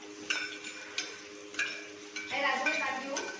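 Omelette ingredients get mixed in a bowl, heard as light, irregular clinks and taps of a utensil against the side, fairly faint, with a busier scraping stir toward the end.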